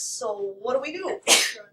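A single sharp, close sneeze bursts out in a pre-calculus classroom, right after a stretch of someone talking.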